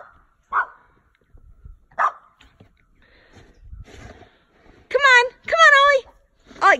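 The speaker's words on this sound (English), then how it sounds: "he's still barking at it" A small Chihuahua in deep snow lets out a few sharp barks, followed by higher whining yelps, with quiet rustling and pauses in between.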